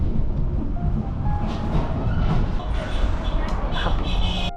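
A passenger train rolling back toward Waihi station through the Karangahake Gorge in New Zealand, a loud, continuous rumble of wheels and carriage heard from on board, with faint clicks and squeaks.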